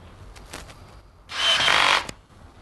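A power screwdriver drives a screw during assembly of a Red Sea MAX S aquarium cabinet. Light clicks and handling noise lead into a single loud, steady whir lasting under a second, followed by a soft knock.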